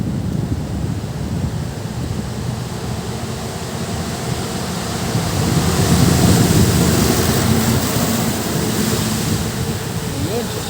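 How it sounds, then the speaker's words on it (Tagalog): Strong wind roars across the microphone with surf crashing steadily on a shore as a typhoon approaches, the gusts swelling louder midway and staying heavy to the end. "Yan, medyo malakas ng hangin."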